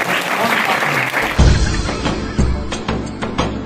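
A crowd at a Gujarati school entry festival applauds to welcome a guest, a dense wash of clapping that shifts in the middle and carries on steadily with a few louder bursts.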